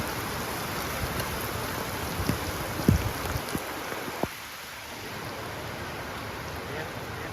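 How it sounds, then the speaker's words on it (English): Rain falls steadily on a rainy morning beside an East Coast road, a continuous hiss with a few sharper knocks and thumps partway through, then settling back into an even, moderate wash. "A rainy morning."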